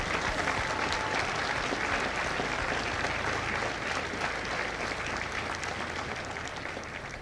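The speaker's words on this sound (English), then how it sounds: "join me in a round of applause for the families of India Company" A crowd at a Marine Corps recruit graduation for India Company at MCRD San Diego claps for the families, dense sustained applause filling the whole stretch and easing slightly toward the end.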